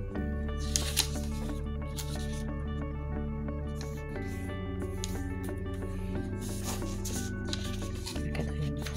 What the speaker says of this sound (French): on part du centre et on va plier sur les extérieurs